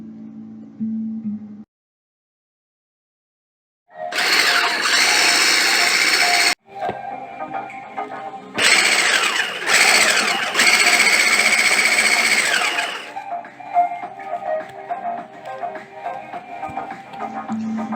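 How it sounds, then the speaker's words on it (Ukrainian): An electric mixer beats egg yolks and one whole egg with sugar for gingerbread dough, a steady close whirring with a few interruptions and changes in pitch as the bowl is worked. "Збиваємо наші жовтки і одне яєчко з цукром."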